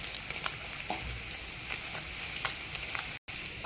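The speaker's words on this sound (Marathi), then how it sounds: "असं तळून घ्यायचं गोल्डन कलर येईपर्यंत. तळले आपलं पनीर." Paneer cubes fry in hot oil for a spicy Marathi paneer curry, giving a steady, close sizzle with light crackling pops throughout, broken by a brief dropout near the end; no voices.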